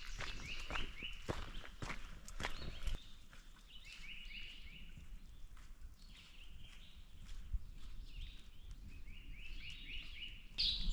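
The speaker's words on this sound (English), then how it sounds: "Birds are singing." Morning birdsong on a hike near a tall waterfall, repeated chirps and trills fairly close and faint, with crunching footsteps on the trail mixed in.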